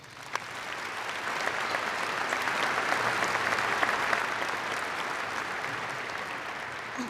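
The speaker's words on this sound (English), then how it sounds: "Let's give them a round of applause." Applause from a commencement ceremony crowd at the University of North Dakota: dense, steady clapping from many hands that builds slightly, holds, then tapers toward the end.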